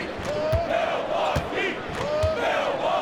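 In NBA 2K24, a hostile basketball arena crowd roars and yells in a steady, dense wash of noise, with squeaking sneakers and a commentator's voice over the top.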